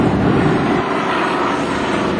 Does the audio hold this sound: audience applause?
no